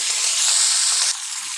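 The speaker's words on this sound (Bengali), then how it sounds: "কড়াতে তেল গরম হয়ে গেছে এবার মাছটা দিয়ে দেবো কড়াতে মাছটা দিয়ে দিয়েছি" Fish fries in hot oil in a wok, a loud bright sizzle close by that holds steady for about a second, then drops to a quieter hiss.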